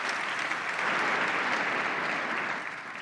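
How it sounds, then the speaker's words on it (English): A large conference audience in a plenary hall gives a steady round of practice applause as a head of state arrives on stage, dense and sustained before fading slightly at the end. "That was the practice clap right when he arrives on the high stage up here."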